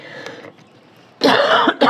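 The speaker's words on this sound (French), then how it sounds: "je ne vais pas arrêter de tousser" A harsh, loud cough bursts out close up after a quieter throat-clearing moment, followed by a second short cough.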